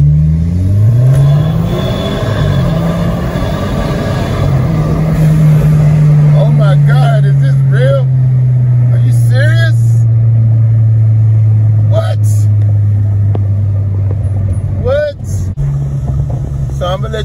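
An Audi/VW engine fitted with an IE intake manifold revs up loudly, then holds a strong steady drone as the car drives, with short voices cutting in over it.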